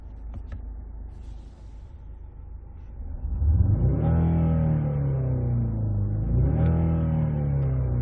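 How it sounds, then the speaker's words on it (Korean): A Genesis GV70 diesel engine idles quietly, then its active engine sound design swells into a deep, synthesized-sounding drone at about three seconds, rising and falling in pitch like revving through gears. "액티브 사운드 디자인이 나와요"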